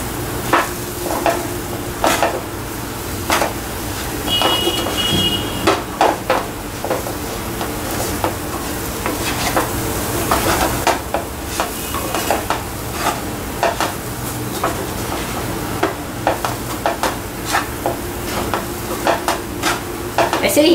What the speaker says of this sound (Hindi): अब इसमें शक्कर डालेंगे और अच्छी तरह मिलाएंगे